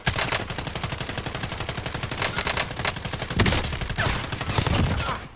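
Rapid automatic gunfire in a video game, a fast continuous rattle of evenly spaced shots in long loud bursts with a brief break midway, nearly free of talk.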